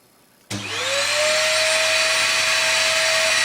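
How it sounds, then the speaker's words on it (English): A vacuum cleaner switches on suddenly and settles into a loud, steady whirring roar with a high whine, running continuously without interruption. "Vacuum cleaner on."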